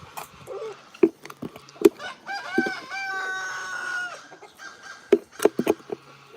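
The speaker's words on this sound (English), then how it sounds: "that crow has got a lot to say" A rooster at an animal sanctuary crows in a long drawn-out call, with sharp clucks and fowl noises scattered before and after, heard fairly close with no talking.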